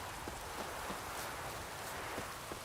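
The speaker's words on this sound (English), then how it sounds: "Looked like it would rain, and here it is." Steady rain falls in The Witcher 3 video game, a soft broadband hiss with scattered drop patter, faint and continuous with no talk.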